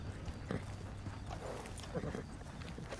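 A horse in Red Dead Redemption 2 is petted and fed after its rider dismounts, with soft hoof shuffles, snorts and rustling under a low, muffled voice throughout.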